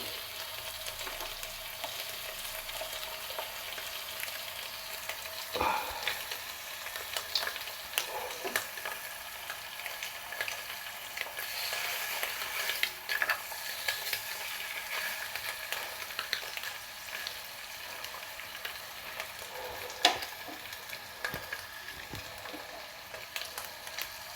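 A stuffed item frying in a pan, a soft continuous sizzle with occasional faint clicks and scrapes as it is turned, quiet and steady with no talking.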